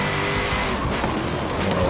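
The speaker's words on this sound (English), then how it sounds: "this is going to be a V8, unless, you know, I'm in an LS, but definitely a Chevy V8" A supercharged Chevy V8 race car in a racing video game, its engine holding a loud, steady, aggressive drone throughout with slight rises in pitch, no talk over it.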